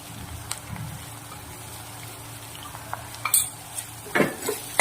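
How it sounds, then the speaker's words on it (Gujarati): A spoon stirs turmeric into softened onions in a pan for Gujarati batata poha, with light metal scrapes and taps against the cookware over a faint sizzle, growing busier toward the end. "હળદર નાખી અને આપણે સરસ હલાવી લઈશું।"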